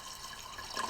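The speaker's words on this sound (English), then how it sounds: "Looks like 1 gallon hasn't even got us up to the low line yet. So let's keep pouring." Water poured into the coolant tank of an RMLaser RM960 Pro Chinese CO2 laser engraver, a steady broadband splashing rush that swells slightly toward the end, close and continuous with no talk.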